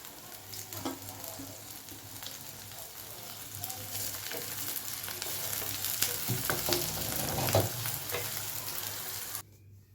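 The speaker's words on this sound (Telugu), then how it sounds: "ఒక్కొక్కటి అన్నీ వేసి వేయించుకోవాలండి" Ginger and tomato pieces frying in a pan for eggplant chutney, a steady close sizzle with occasional stirring scrapes and crackles throughout, no talking.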